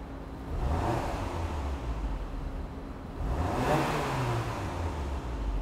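A stationary Porsche Macan is revved twice through its exhaust. Each throttle blip rises and falls in pitch, loud and close, against a quiet idle with no speech.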